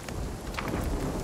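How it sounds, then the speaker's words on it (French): Hail and thunder pound down in the survival video game Nightingale, a dense, loud roar of rain-like impacts with low rumbling underneath, brief and unbroken. "Ah, mon perso il prend cher de la grêle"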